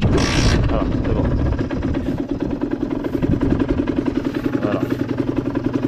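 A Yamaha DT 50 motorcycle idles in neutral with a steady, close, throbbing mid-pitched engine pulse. A brief voice and a short burst of noise come at the start.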